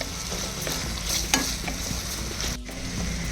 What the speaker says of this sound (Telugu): ఇది మొత్తం ఒకసారి కలుపుకొని ఈ టమాటాలు మొత్తం కంప్లీట్గా మగ్గిపోవాలి